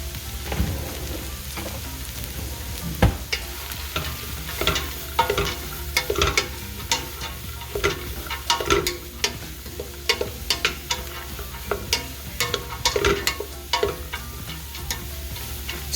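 Chopped celery, onion and carrot sweat in melted fat in a stock pot, a soft continuous sizzle broken by scattered clicks and scrapes of stirring, fairly close and quiet.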